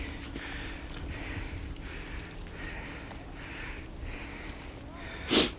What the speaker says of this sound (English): you hear me breathe heavy